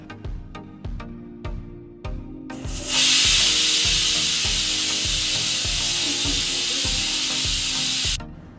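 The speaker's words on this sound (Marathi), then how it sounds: "मी सगळी भेंडी उभटसर चिरून घेतली" A knife chops okra lengthwise on a board, producing steady, regular thuds about twice a second, close by. A loud sustained hiss joins midway and continues almost to the end, and no one speaks.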